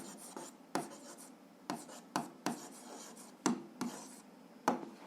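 Pen writing on paper while an algebra exercise is worked out, a quiet close scratching with regular sharp taps and strokes as letters and numbers are formed.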